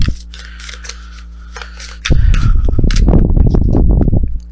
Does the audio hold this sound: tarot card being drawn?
yes